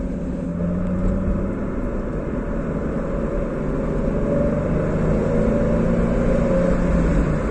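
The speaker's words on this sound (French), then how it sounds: "Une très belle sonorité ce moteur, hein." A stock-exhaust Nissan 350Z engine holds a steady, deep rumble throughout, a continuous close drone with no clear rev peaks and no voices.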